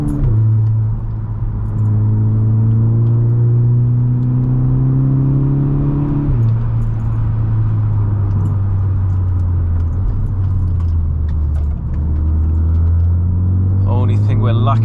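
A 263 bhp VW Golf MK6 GTI is driven hard on the road, its engine droning and rising through the revs, dropping with a gear change and climbing again under steady cabin road rumble.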